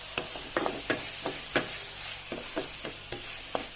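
Onions sautéing in a pan for mushroom masala, with a soft, steady sizzle broken by regular scraping taps of stirring, close up and without speech.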